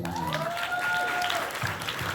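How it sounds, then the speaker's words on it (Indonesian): Audience applause at a Maulid Nabi gathering for Generation Z, a short burst of clapping from a crowd with a few tonal whistles or voices mixed in, fading toward the end. "kita kasih tepuk tangan dulu"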